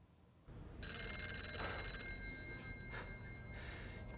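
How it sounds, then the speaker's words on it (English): An old 1940s telephone rings with a bright, shimmering metallic bell. The ring starts abruptly and sustains, then repeats in short bursts, heard alone without talking. "I've got a old 1940s phone ring here."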